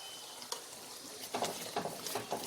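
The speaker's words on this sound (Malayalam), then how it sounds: "നന്നായിട്ടൊന്ന് നമുക്ക് മിക്സ് ചെയ്യാം" A sticky tamarind candy mixture with salt and chili powder is stirred in a pot, soft scraping and sizzling with a few sharp utensil knocks growing busier toward the end.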